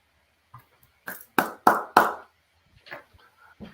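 A few sharp hand claps, loud and close, in an uneven burst of three or four, followed by scattered softer taps.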